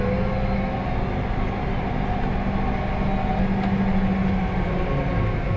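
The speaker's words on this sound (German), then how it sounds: "Jetzt fahre ich ein Stück." A Claas Axion 960 tractor driving, heard as a steady, continuous low engine drone with a rumbling mechanical hum at even loudness and no talking.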